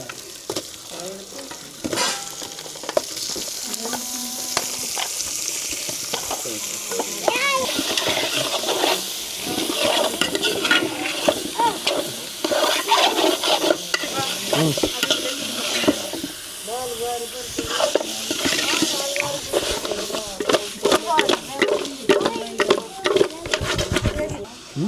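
Goat head meat sizzles in a pan on a wood fire stove while it is stirred hard, giving repeated scraping and clattering under a steady fry, with a voice talking over it at times.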